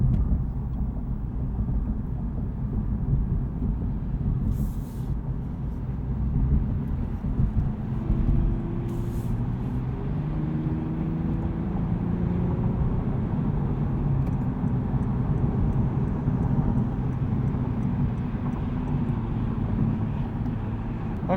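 A 2021 Lexus IS 350 AWD cruises at highway speed, its cabin full of a steady low road and engine drone with wind rush, constant and close, with no talking.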